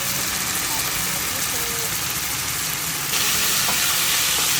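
Pork fat frying in plenty of oil for Filipino pork adobo, giving a steady broadband sizzle that grows louder and brighter partway through, with a low continuous rumble underneath.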